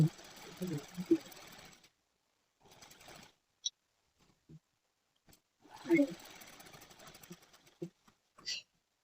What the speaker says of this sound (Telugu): బ్యాక్ పార్ట్ కి సంబంధించి ఫస్ట్ నేనైతే నెక్ ని స్టిచ్ చేస్తున్నాను